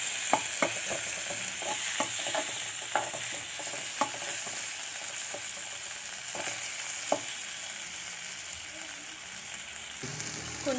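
Tomato masala sizzles steadily in a pan, with a dense hiss throughout and a scattering of spatula scrapes and taps, busier at first and thinning out later.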